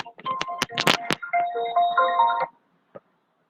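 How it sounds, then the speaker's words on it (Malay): An incoming call sets off a phone ringtone during an online class: a melodic run of electronic tones lasting about two seconds after a few short knocks, then it cuts off. "ada panggilan telefon."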